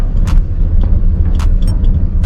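A 2025 Kia Sonet on new Raider Sprint tires rolls over a potholed, unfinished road beside an open canal, giving a steady low road rumble with faint scattered thumps and rattles throughout.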